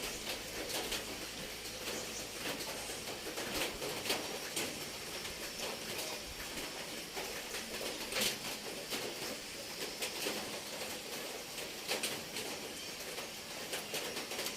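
Steady morning rain falling outdoors, a dense continuous patter with scattered louder drips throughout, close and moderately loud with no talking.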